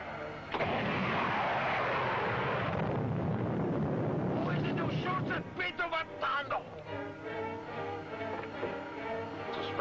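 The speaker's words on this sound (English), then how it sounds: "Prepare to fire 3rd missile, Biff." A 1950s science-fiction spaceship fires a missile: a loud roaring, hissing blast that swells and holds for a few seconds, then trails off into rumbling as people begin talking over the tail of the effect.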